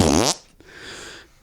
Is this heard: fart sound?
yes